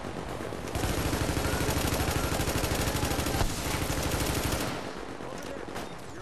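Gun turrets firing in The Division's Dark Zone, a loud, continuous stream of rapid automatic shots lasting several seconds before cutting off, with a brief voice underneath.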